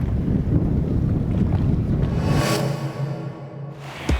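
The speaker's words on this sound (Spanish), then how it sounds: "este cielo y este mar nos ayudaron a recrear la situación de Jonás" Sea and wind under an open sky, a steady broadband roar of wind buffeting the microphone over rolling water, loud and continuous throughout with no voices.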